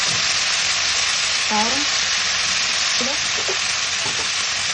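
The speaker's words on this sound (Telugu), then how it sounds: "కొద్దిగా ఉప్పు వేసి నెమ్మదిగా ఫ్రై చేసుకోవాలి." Bone-in mutton slow-frying for nalli gosht biryani gives a loud, steady, close sizzle that fills the whole stretch, with a voice speaking briefly over it a few times.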